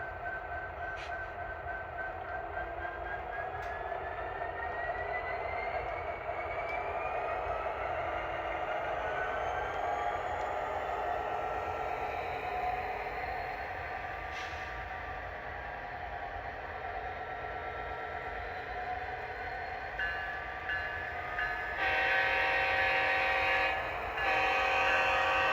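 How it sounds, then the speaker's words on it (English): A model railroad locomotive runs on a home layout, a steady close hum and rolling drone with a rising whine and the occasional click, growing slightly louder toward the end. "this is actually one of my favorite locomotives to run in the dark setting of the layout"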